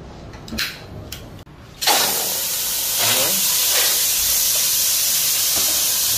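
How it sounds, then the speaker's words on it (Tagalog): Duck pieces hit hot oil in a pan for Ilocano-style adobo, bursting into a loud, steady hiss and sizzle after a few brief clatters, the frying continuing strong and close until the end. "pagmantikain na natin yung bibi"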